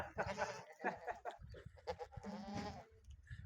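Goats, including milking nannies and kids, bleat repeatedly at close range on a farm, several wavering cries overlapping in quick succession, loud and clear with no one speaking.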